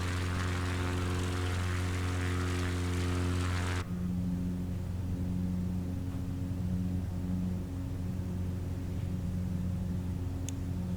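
A float plane's propeller engine in a flight simulator game hums steadily with strong low tonal harmonics, bright broadband roar over the first four seconds, then a lower, steadier drone continuing alone to the end.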